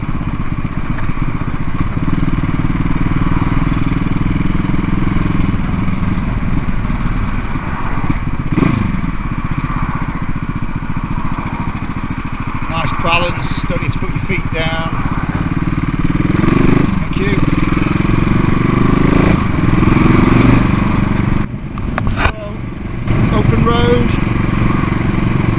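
A CCM Bobber motorcycle with a Husqvarna engine rides through traffic, its engine droning steadily and loudly throughout while someone talks over it and passing traffic adds whooshes.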